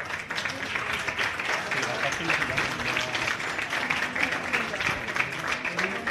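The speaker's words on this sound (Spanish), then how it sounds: "Aplauden por emoción" Audience applauding steadily at the final of a senior cooking contest, a dense, sustained wash of clapping throughout with voices mixed in.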